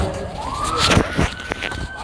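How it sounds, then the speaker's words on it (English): Ambulance siren during a Seattle street protest, a single rising wail climbing and holding steady over street noise, moderately close with clattering sounds around it. "So that sounds like an ambulance."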